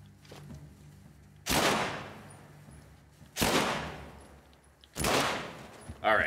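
Three loud, close gunshot blasts from a weapon in The Last of Us, each a sharp crack with a long decaying tail, spaced about two seconds apart, over a low game background hum.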